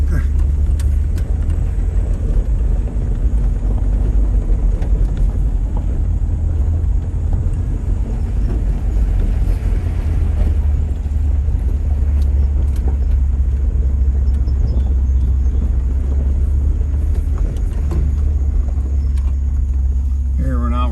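A 1989 Toyota Tacoma SR5 4x4 club cab pickup with a 3.0 EFI V6 and five-speed manual drives off-road. It makes a loud, steady low engine rumble and road roar from inside the cab, and people talk over it.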